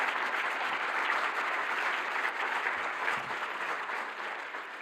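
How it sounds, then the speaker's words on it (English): A symposium audience applauds at the closing of a plenary session. Sustained, dense clapping from a large crowd fills the hall evenly, then eases slightly toward the end. "Big applause."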